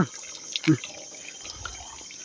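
Water pours steadily from a village spring pipe in a forest in Nepal, a continuous close hissing stream broken by a few brief knocks and splashes, with faint voices underneath.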